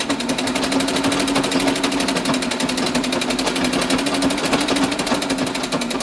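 Treadle sewing machine running a straight stitch along a cloth table napkin, a fast, steady mechanical clatter of needle strokes that stays loud and unbroken throughout, with no voices.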